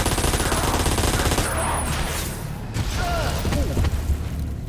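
Gunfire in the post-apocalyptic shooter Ashes 2063, with dense shots cracking through the first seconds over a busy game mix before easing, then picking up again in the last second.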